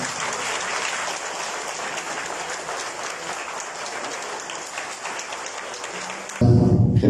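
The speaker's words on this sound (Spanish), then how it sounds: "vamos a recibir con un caluroso aplauso" A large crowd applauding steadily, dense clapping from many hands that holds at an even level throughout.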